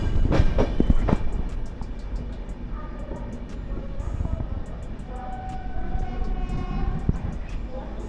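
Black Diamond Express, an LHB superfast train, running steadily with a continuous rumble and repeated rhythmic clacking of wheels over rail joints, heard loud and close from on board for the whole stretch.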